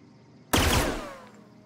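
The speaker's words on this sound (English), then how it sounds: "it shoots 3 bullets. And it's an energy gun" An energy gun fires a burst in The Outer Worlds, a sharp sudden blast after a moment of quiet, then a zapping tail that rings and fades over about a second.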